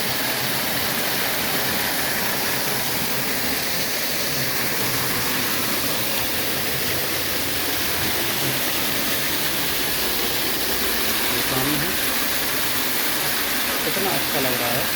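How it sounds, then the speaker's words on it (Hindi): Waterfall in the Patanjali herbal medicinal garden pours steadily, a dense continuous rush of falling water filling the whole stretch, with faint voices murmuring underneath. "ये देखिए झरना चल रहा है।"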